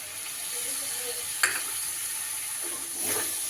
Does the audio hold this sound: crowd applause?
no